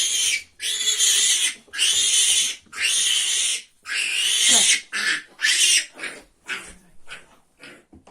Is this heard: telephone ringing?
no